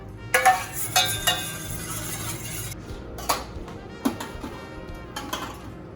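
A spoon stirs red currant into a lamb jus in a pan, with sharp metallic clinks and knocks against the pan and soft scraping, a few louder taps in the first seconds and lighter ones after.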